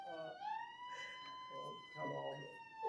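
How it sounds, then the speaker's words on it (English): A fire alarm siren sounds indoors as a loud, steady electronic tone with a brief sweep at the start, continuing under people talking nearby. "that is the fire alarm, here we go."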